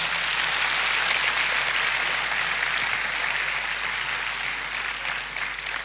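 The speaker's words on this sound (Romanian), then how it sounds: "Haideți să-l aplaudăm" Church congregation applauding a welcomed guest preacher at a family conference, a steady dense wash of clapping held at an even level throughout.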